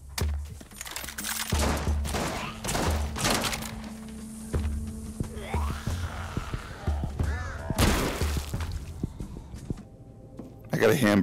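Bursts of gunfire at zombies in the VR video game Arizona Sunshine, with repeated loud shots in quick clusters while a person talks over the action.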